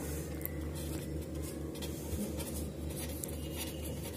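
Pen scratching on paper as numbers are written down, steady soft strokes over a low hum for several seconds, close and quiet with no talk.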